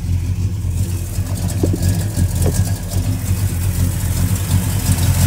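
An older car's engine runs steadily during a radiator and engine flush, a loud, close idle with a low rumble and slight rises in revs, heard alone.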